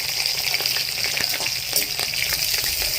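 Chopped garlic and green chilli frying in hot oil for chingri kochu shak, a loud, continuous crackling sizzle with occasional stirring scrapes, close and steady throughout.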